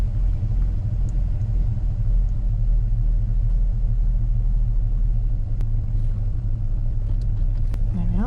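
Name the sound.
van driving off a driveway, engine rumble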